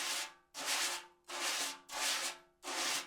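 Jazz brushes sweep laterally across a drumhead in five long, even swishes, each a soft broadband hiss with brief pauses between strokes, close and alone.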